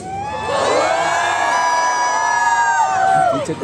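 A crowd at a pre-wedding celebration in Jamnagar shouts and cheers from the back of the audience in one sustained, loud roar of many voices that rises and holds for several seconds.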